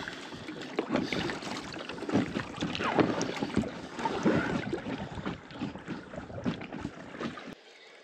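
Canoe paddling on a remote fly-in wilderness lake, steady rhythmic water strokes and splashes close by, with wind buffeting the microphone throughout and no talking.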